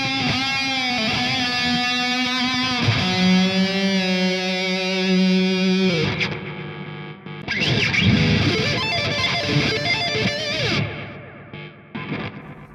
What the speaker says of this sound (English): pure Stratocaster tone.